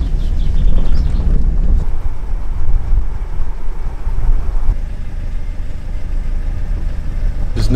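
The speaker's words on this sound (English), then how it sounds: "Oh, but the wind right in our chops." Strong wind blowing across Esthwaite Water lake at a fishing spot, a loud steady rush with buffeting gusts against the microphone.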